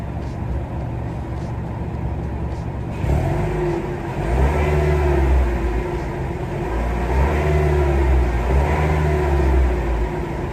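A 2024 Toyota RAV4 LE heard from outside: the engine idles, then rises in a few steady revs that swell and fall back, loud and near, with no talking.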